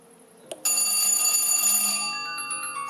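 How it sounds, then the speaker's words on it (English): A wall-mounted video doorbell chime rings after its button is pressed: a short click, then a bright sustained multi-tone ringing that slowly fades, loud and close with no talking. "And there is the ringer or chime or whatever you want to call it."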